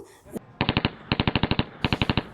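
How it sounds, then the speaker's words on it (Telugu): Rapid electronic gunfire from a VR gun shooting arcade game at a Hyderabad amusement park, loud bursts of sharp evenly spaced shots in three clusters with short pauses between them. "విఆర్ గన్ షూటింగ్ గేమ్ ఇది."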